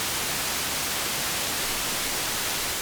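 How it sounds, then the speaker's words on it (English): Broadband white noise from a synthesizer noise module runs steady and even across the whole span, a constant hiss with no other sounds. "That was white noise."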